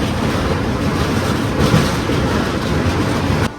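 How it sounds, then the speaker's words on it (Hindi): The Veerbhumi Express rolls past in a loud, close, continuous rumble with rushing noise and faint rhythmic clatter from the wheels, ending abruptly. "ट्रेन जा रही है यहाँ से"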